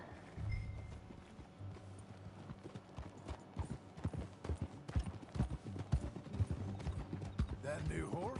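Horse hooves clip-clop at a steady walking pace in Red Dead Redemption 2, the even clopping running through the whole stretch with a faint mechanical jingle and game music, and speech at times.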